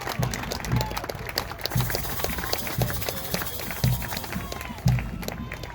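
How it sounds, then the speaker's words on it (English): Parents and friends applaud from the stands as freshman cadet units pass in review at the West Point Acceptance Day parade on a mild August day. The scattered clapping sits under a commentator's voice and regular heavy thumps. "they're getting a big round of applause from their parents and friends"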